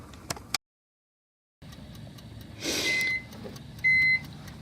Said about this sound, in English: There's the microwave for Molly's canned dog food.